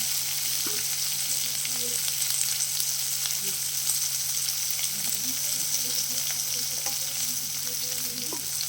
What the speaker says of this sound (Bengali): ফুটিক আর লাউ এটাকে একসাথে এই যে পড়ার মধ্যে তুলে ভালো করে ভেজে নিতে হবে